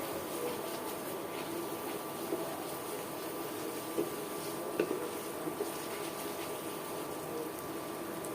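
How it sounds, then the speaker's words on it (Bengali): Spice paste for chicken roast fries steadily in oil, a soft continuous sizzle and bubble with occasional faint pops, heard alone at low level. "এখন বেশ কিছুক্ষণ ধরে আমি মশলাটা কষিয়ে নেব"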